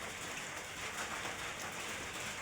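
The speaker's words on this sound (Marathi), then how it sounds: "पावसाचे थेंब चालूच आहेत।" Light drizzle patters steadily on a vegetable garden with cowpea and cucumber vines, a soft, continuous hiss of drops with no voices.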